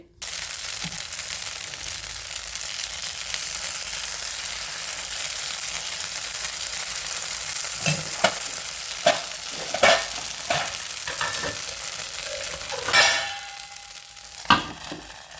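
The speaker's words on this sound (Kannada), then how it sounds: "ಕೆಳಗೂ ಎಣ್ಣೆ ಹಚ್ಚಿ ದೋಸೆ ಹೊಯ್ದಿದೆ" Instant dosa batter sizzles on an oiled tawa with a steady, close hiss; in the second half, louder scraping and tapping of a spatula join the sizzle, and no one speaks.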